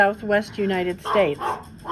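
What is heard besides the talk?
dog barking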